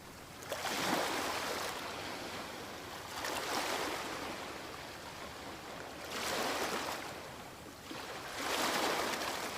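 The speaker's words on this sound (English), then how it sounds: "so you can hear the waves in the background" Ocean waves breaking near the shore, four soft swells rising and falling in a slow, even rhythm, fairly faint and steady with no voices.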